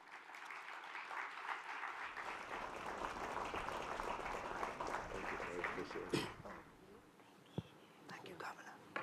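Audience applause greets panelists at a governors' meeting, a broad sustained clatter of clapping that swells, then thins and fades, with murmured voices near the end.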